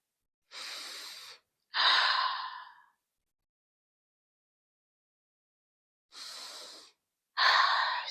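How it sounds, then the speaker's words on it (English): Deep breathing during a yoga session: two pairs of slow, breathy inhales and sighing exhales, close and clear, separated by a long silence. "Breathe in and out."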